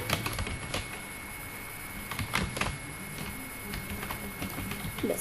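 Text typed on a keyboard in an MS Word document: a quiet run of light, uneven key clicks up close, with a faint steady hum beneath.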